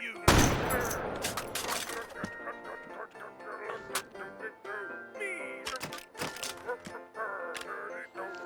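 Gunfire while test-firing weapons in a video game: a burst of sharp, loud shots up front, then scattered single cracks and pops mixed with squawky, duck-like game noises and a voice talking over them.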